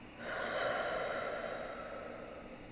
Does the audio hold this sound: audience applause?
no